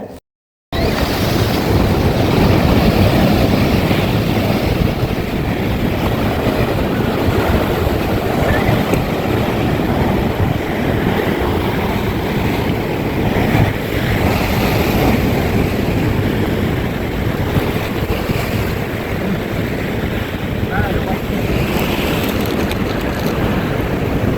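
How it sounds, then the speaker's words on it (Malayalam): A loud, steady roar of rough, turbulent surf and churning sea water on the Amalfi Coast, mixed with wind rumble and no pauses throughout. "കടലിൻ്റെ അവസ്ഥ നിങ്ങൾ കണ്ടല്ലോ, ഭയങ്കര കുലുഷിതമായിട്ട് ഇങ്ങനെ ടൂർബുലൻ്റ് ആയിട്ട് നിൽക്കുകയാണ്"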